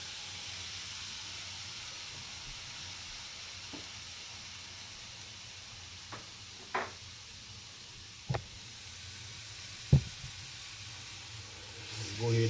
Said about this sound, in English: we're gonna go ahead and start cooking our hamburger meat